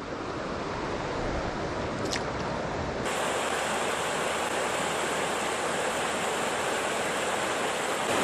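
River water rushing along a smallmouth bass fishing stretch, a loud, steady broadband wash of flowing current that grows fuller and brighter partway through, with no voices.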